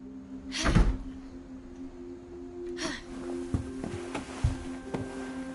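A door creaks and thuds open in What Remains of Edith Finch, one loud burst near the start and a fainter one later, then scattered soft knocks over a steady low hum.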